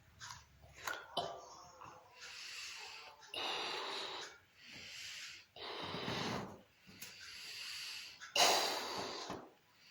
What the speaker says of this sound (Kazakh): біз алдымен осы шарымызды үрлеп аламыз